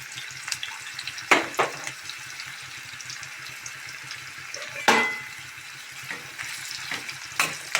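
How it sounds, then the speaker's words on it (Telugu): Bitter gourd pieces frying in hot oil for a Telugu bitter gourd curry, a faint steady sizzle broken by a few sharp stirring clatters and spatters. "ఆయిల్ హీట్ అయినాక మనం పెట్టుకున్న కాకరకాయ ముక్కలన్నీ వేసేసుకొని ఫ్రై చేసుకుందాం."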